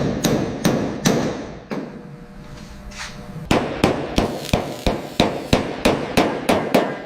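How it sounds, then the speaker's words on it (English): Sharp hammer blows reshaping rusty body metal on a Buick Skylark ring out close and loud, a few scattered strikes giving way after a pause to a steady, even rhythm of repeated metallic clangs. "Listen to the rhythm of the hammer."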